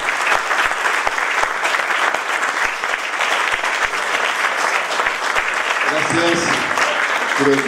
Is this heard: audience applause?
yes